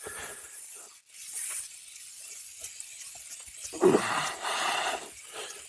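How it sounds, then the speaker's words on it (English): A hissing spray of water washing a vehicle tire comes and goes in bursts, with a louder splashing blast toward the end, fairly close. "we're gonna roll this tire slowly and try to spray off as much gunk"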